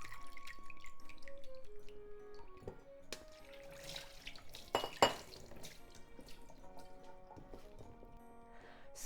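Rehydrated wakame seaweed is drained, giving faint, close trickling and scattered drips of water with a brief louder splash midway, over a quiet kitchen background with no talk.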